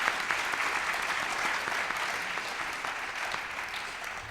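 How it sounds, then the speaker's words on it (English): An audience applauds a distinguished panel at an evening event, steady dense clapping sustained throughout without a break, moderately loud and with no voices over it. "may we please have a round of applause for our distinguished panel this evening"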